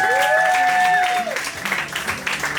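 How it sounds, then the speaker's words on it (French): A stand-up comedy audience at a French-language humour night claps and cheers while the host introduces the next comedian. A tonal squeal sits over the opening second, and lively applause then carries through to the end, with a voice heard over the crowd. "Applaudissez pour Gab Archambault!"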